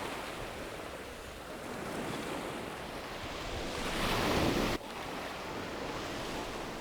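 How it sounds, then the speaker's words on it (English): Waves rolling in fiercely on an incoming tide by the groynes at Portobello beach, a broad rushing wash that swells louder midway, with wind buffeting the microphone. "Tide's coming in pretty fiercely at the moment"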